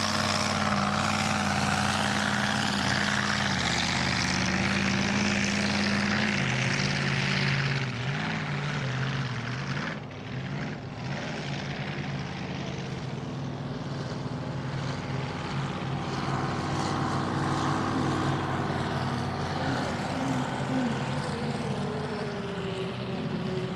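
The red unlimited race boat Explicit, powered by a turbocharged straight-six Ford Barra engine, racing at a powerboat event: a loud, sustained roaring engine drone that shifts pitch, with a brief dip partway through and no talk.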